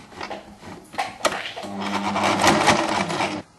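A sewing machine is cranked by hand while a detachable Peter Pan collar is sewn, giving a close mechanical whirr with clicks and a brief knock before the run, then a steady rattling hum.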